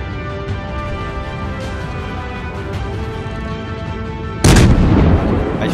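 Coastal defense guns open fire in the World of Warships naval combat game: one heavy, close boom bursts out near the end over a steady bed of game music and engine drone.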